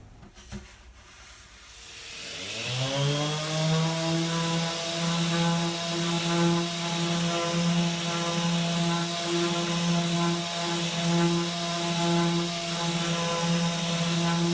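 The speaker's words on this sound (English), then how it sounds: "I go on with sanding." A power sander works the bevels of an acoustic guitar; the motor spins up after a couple of seconds into a steady, humming whine that holds alone to the end.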